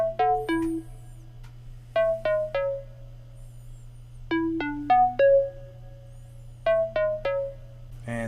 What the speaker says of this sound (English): Up next, we got this counter melody right here